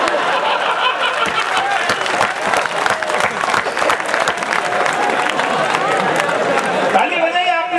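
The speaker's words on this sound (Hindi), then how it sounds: "ताली बजाई आपने" An audience at a Hindi kavi sammelan poetry recital in Tonk breaks into sustained, dense clapping that continues steadily throughout, with a voice speaking over it near the end.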